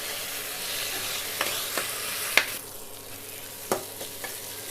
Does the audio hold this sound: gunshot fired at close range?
no